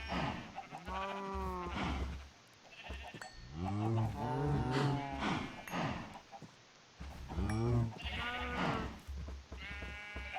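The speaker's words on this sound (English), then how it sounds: "now we're gonna come in here and feed these cows" Cows mooing in the Minecraft modpack ATM Spellbound, several drawn-out calls overlapping one another over a steady low hum, loud and close with short gaps between them.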